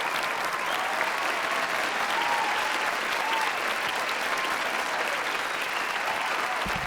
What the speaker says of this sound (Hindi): पुरजोर तालियों में इस्तकबाल करें।